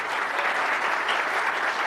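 A book-launch audience gives the arriving author a strong round of applause, a dense, steady wash of many hands clapping at once, loud and sustained without any speech over it.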